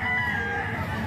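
Rooster belonging to a man called Kuya Batang at a fowl sale, a crow-like cry riding over steady low background noise and crowd murmur, brief and moderately loud.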